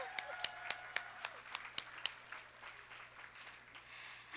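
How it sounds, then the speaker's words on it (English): Applause from an audience for a DJ at a live event: a few sharp, scattered claps over the first two seconds, then a soft, faint patter that fades away. "Let's give her a round of applause."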